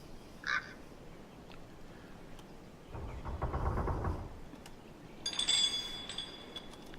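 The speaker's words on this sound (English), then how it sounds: "we have background sound with birds chirping and wind" Faint outdoor ambience from an Unreal Engine 4 game sound cue, with soft wind, a brief chirp early on, a louder gusty rush in the middle, then a cluster of bird calls near the end.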